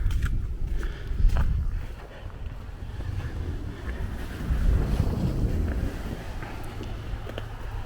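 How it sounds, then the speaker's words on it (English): Strong gusty wind buffets the microphone outdoors on Brooklyn streets in Bensonhurst after a blizzard, rumbling in uneven surges and lulls throughout, with no talk. "very windy today. You'll hear wind at times."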